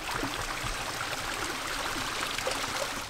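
A small stream runs after recent rainfall on Gran Canaria, a steady close rush and trickle of water with faint gurgles, continuous and even throughout, with no talking.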